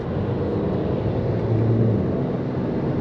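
An Audi TT engine rumbles steadily from inside the car after a downshift, a low continuous drone that swells slightly midway, close and even, with no talking.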